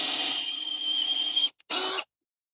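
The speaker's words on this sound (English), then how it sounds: "And we're going to drill that out." A power drill boring a clearance hole during deck building whines steadily at high pitch for about a second and a half, stops briefly, then runs again in a short burst before silence.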